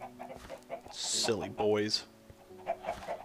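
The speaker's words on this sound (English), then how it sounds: "We've got tons of flipping chickens all over the place." Minecraft chickens clucking in a game world, a few close synthetic clucks and squawks mixed with someone talking briefly over them.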